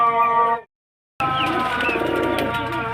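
Pigeons offered for sale at a market in Beldanga coo close by in soft, rolling calls, broken by a brief silent cut before the cooing resumes with faint chirps around it.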